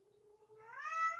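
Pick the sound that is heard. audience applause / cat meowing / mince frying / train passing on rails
cat meowing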